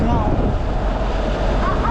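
Sea waves surge over a seawall near the shore, a continuous heavy roar of water and wind buffeting the microphone, with a voice calling out briefly over it.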